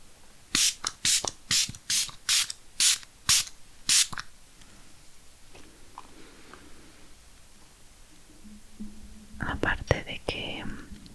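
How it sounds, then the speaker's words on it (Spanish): A spray bottle of skincare product misting in a close, quiet room, about eight sharp, airy spritzes in quick rhythmic succession, then faint rustling and a soft handling noise near the end. "además del hecho de que es en spray, la verdad es que es casi como un paso de aromaterapia"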